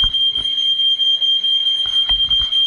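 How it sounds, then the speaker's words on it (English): A kitchen smoke alarm rings with a piercing, steady high-pitched tone after pasta burns on the stove, with some clattering and shuffling noises underneath. "The alarms are going off, everything is burning."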